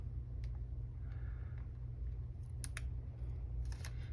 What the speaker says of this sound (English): I'm gonna go ahead and cut the leaves off